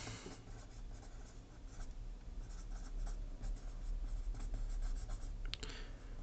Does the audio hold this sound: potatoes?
no